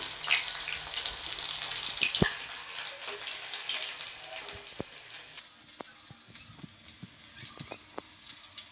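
Chicken cutlets fry until golden brown in hot oil, giving a soft, steady sizzle scattered with sharp little crackles and pops, close by and alone without talk.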